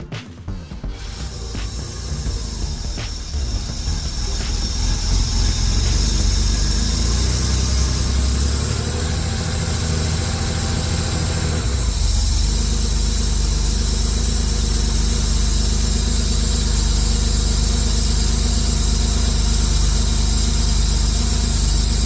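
A 1976 Porsche 911 engine cranks briefly and catches, then settles into a steady, loud idle with a constant low rumble and no talking.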